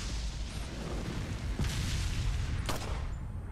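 Pistol shots ring out in Resident Evil 4, with a sharp broadband report near 1.6 seconds and another near 2.7 seconds over a steady, busy game ambience.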